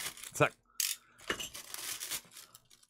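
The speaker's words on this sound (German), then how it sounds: "Svenny macht die ganze Tüte kaputt." The plastic packaging bag of a fishing lure is torn open in several close, sharp crinkling and ripping bursts with short pauses between them.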